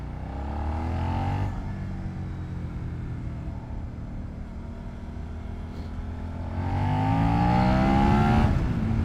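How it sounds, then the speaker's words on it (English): A 2022 Suzuki SV650 with an aftermarket exhaust drones steadily while riding, its exhaust note rising and falling as the throttle opens at the start and again near the end. "this one has a nice Leo Fins exhaust, which looks very good and also sounds very good"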